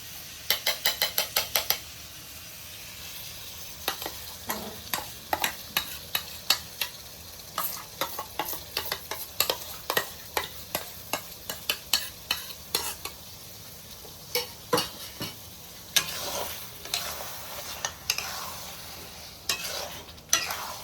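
A spoon stirs shrimp malai curry with coconut milk in a pan, giving repeated sharp scraping clicks in irregular bursts, a fast cluster at first and then spaced strokes, close and fairly quiet, with no talking.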